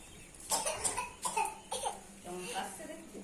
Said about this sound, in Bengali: কে কি কেন কাশা কাশি হচ্ছে